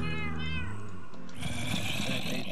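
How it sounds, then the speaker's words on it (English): A Minecraft cat meowing, a drawn-out, clear cat cry followed by a burst of noisier game sound, close and fairly loud, with no talking. "You listen to the meows."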